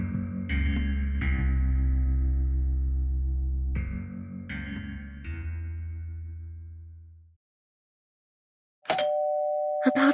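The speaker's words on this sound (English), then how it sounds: "he rang my doorbell." A doorbell in Reverse 1999 rings a sequence of clear, resonant chimes that ring on and decay into silence, followed by a brief bright electronic tone near the end.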